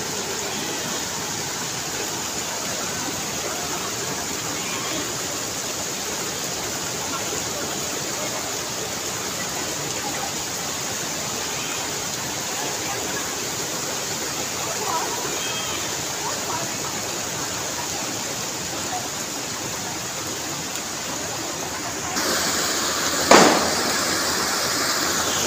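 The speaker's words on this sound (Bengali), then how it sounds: "জলপ্রপাতের জলের শব্দে কান একদম ঝালাপালা হয়ে যাচ্ছে।" Loud, steady roar of a waterfall fills the whole stretch as continuous broadband rushing water, with a brief sharper knock near the end; no clear talk over it.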